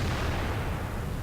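A single heavy boom from a tank cannon in World of Tanks, a loud low blast filling the short moment with a rumbling decay.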